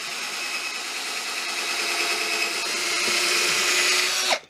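A power drill bores steadily through a wooden cigar box being built into a guitar, a close continuous whine that holds for about four seconds, rises slightly in pitch, then cuts off abruptly as the bit breaks through.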